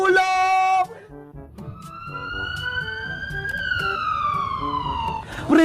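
Wailing emergency siren in a comedy skit calling for an ambulance, loud and close, sweeping up and down in pitch after an opening blast, with shouting and other sounds mixed underneath.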